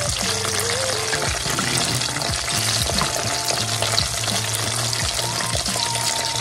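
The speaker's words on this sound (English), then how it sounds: "see if we're about to sizzle again." Food fries outdoors with a loud, continuous sizzle and crackle close by, with occasional stirring or scraping sounds mixed in.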